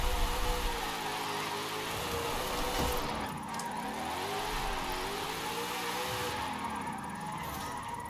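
In the video game Forza Horizon 5, a Ford Mustang Dark Horse engine revs and drones loudly, its pitch rising and falling through shifts as the car is driven continuously.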